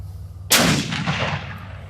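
A single sharp rifle shot from a Ruger Precision Rifle cracks loudly and close outdoors, followed by a short rolling echo that fades out.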